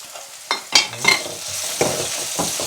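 Chicken curry masala frying in oil, with steady sizzling and several sharp scraping stirs of a spoon against the pan, close and clear, and no talk.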